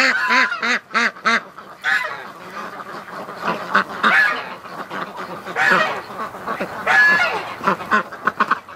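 Domestic ducks and geese at a hatching and rearing yard honk and quack repeatedly in loud, overlapping bursts close by, with a few sharper goose honks standing out among the flock.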